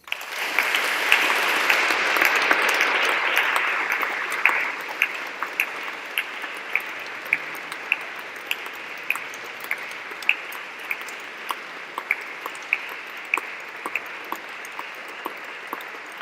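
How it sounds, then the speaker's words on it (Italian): Applause from a church congregation in a parish hall, dense clapping for about four seconds, then thinning into scattered individual claps that continue sparsely to the end, with no voices. "E facciamo loro un bel applauso."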